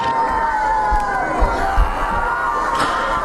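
Wrestling crowd at a Holiday Inn show roars and shouts in reaction to an attack from behind, a dense continuous wall of cheering and jeering with a few louder thuds beneath.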